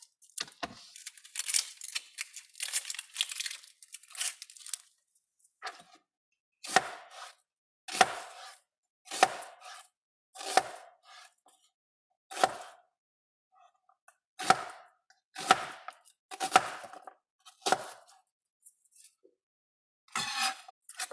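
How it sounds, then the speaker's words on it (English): Half of a large onion cut into big chunks with a knife on a board: brief bursts of quick chopping, then a slow series of separate, sharp thunks with silent pauses between them, close and clear. "I'm also going to add about a half of this large onion. I'm going to leave it in some pretty large chunks."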